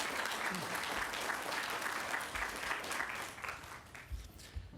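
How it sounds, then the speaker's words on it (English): A round of applause at a school district board meeting honoring state champion student athletes, steady clapping from a modest crowd that thins and tapers off toward the end. "So let's give all our state champions one more round of applause."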